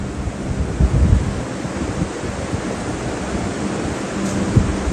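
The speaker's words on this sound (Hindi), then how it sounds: "प्रकृति के बीच में झरना बह रहा है, झरने की आवाज को सुनिए।" A constant roar of falling water fills the scene, dense and unbroken, with a few deeper rumbling swells.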